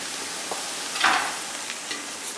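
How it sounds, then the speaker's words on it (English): Garlic frying with bacon and onions for sauerkraut, a soft steady sizzle with a brief louder scrape of stirring partway through, no voices. "Let garlic fry for about 2 or 3 minutes."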